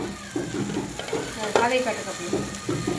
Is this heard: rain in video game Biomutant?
no